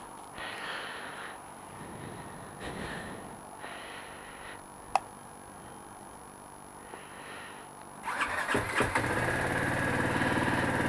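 A BMW G 310 GS single-cylinder 313cc motorcycle sits through several short electronic chimes and a click, then its engine starts and settles into a steady idle, close by.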